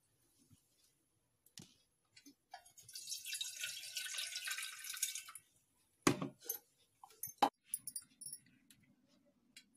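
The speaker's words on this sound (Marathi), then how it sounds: "दोन तीन पाण्याने स्वच्छ तांदूळ धुवून घ्यायचे" Rice being washed in water at a sink, rinsed two or three times before making jeera rice; a few seconds of close splashing and swishing water, framed by scattered clinks and handling noises.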